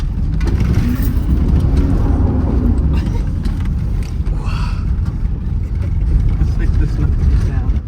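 A car engine, a built LS engine, drones loudly and steadily throughout, rising in pitch at times as it revs high, with a voice talking faintly over it.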